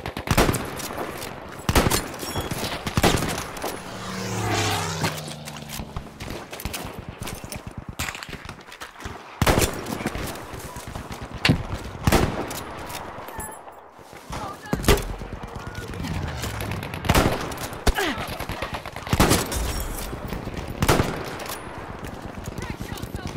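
Gunfire in Battlefield V sounds as sharp, loud single shots and short bursts spread irregularly through the clip, alongside other game effects and occasional talk.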